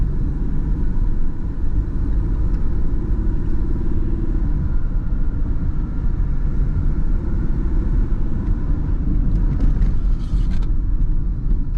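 A 1991 Mitsubishi Diamante 30R-SE with rear-wheel steering is driven through corners, its engine and road noise a loud, steady low rumble from inside the car, with slight changes in load.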